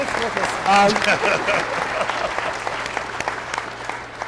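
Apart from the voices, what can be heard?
audience applause at a town hall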